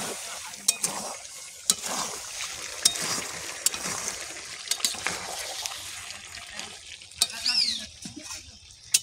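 Pond fish and broiler chicken sautéing in oil in a pan for a Bengali curry, an even sizzle punctuated by sharp scraping clicks of a spatula at irregular intervals, with a faint liquid bubbling.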